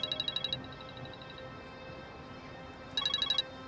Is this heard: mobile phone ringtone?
yes